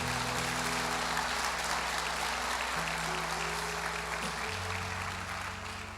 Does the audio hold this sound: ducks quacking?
no